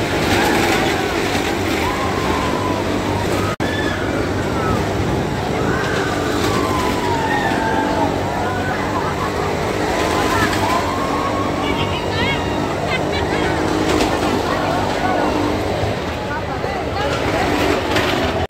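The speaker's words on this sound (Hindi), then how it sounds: "गाइस ये तो मौत का कुआ है जिसमें हो रही है बाइक से" Motorbikes ride the wall of a well of death at a night carnival, engines droning continuously and loudly throughout with a constant crowd and fair din underneath.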